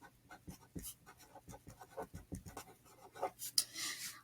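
Pen or pencil strokes scratch softly across paper in short, quick bursts during a math lesson on fractions, faint and close with no talk.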